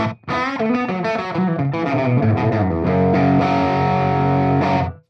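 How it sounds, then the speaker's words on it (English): Electric guitar played through a Tone Master Pro digital delay set to a very short echo with a large plate reverb, giving distorted chords and single notes ringing loud and close with a slight doubled slap, no voices. "Here's the digital delay."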